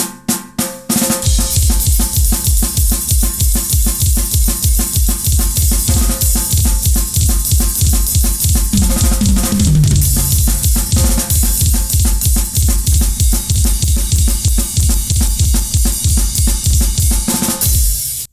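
Metal thrash beat on a drum kit, with fast, evenly driving kick and snare hits under steady crashing cymbals that keep a relentless rapid pulse for the whole stretch, loud and close with no talking.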